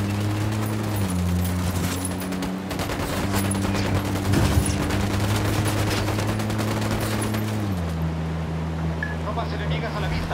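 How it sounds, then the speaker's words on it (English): Gunfire in the video game Ghost Recon Wildlands, a loud dense volley of rapid shots over a steady engine-like drone, with players talking. "I'm shooting these fuckers."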